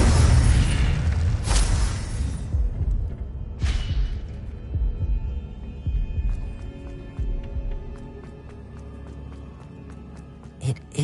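A fire spell cast in the Hogwarts Legacy video game: a loud whooshing burst of flame opens, followed by a second flaring blast and then crackling, clattering game effects that fade under a low rumble.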